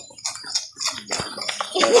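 Water pours steadily into a gallon container, splashing and gurgling, with some faint background noise mixed in.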